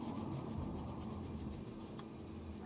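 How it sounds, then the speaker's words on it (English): Sandpaper scuffs a plastic part from an original Nintendo Game Boy being refurbished, a steady close rasping rub with a quick back-and-forth rhythm that continues without pause. "I like to scuff it up with some sandpaper"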